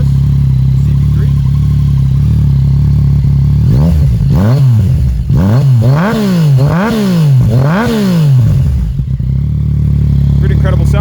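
A 2019 Yamaha XSR 900 with a CP3 engine and a Yoshimura full exhaust system idles with a deep, steady rumble, then gets five sharp throttle blips in a row before settling back to idle, loud and close.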